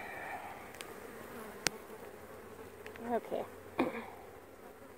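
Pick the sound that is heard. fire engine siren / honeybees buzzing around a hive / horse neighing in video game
honeybees buzzing around a hive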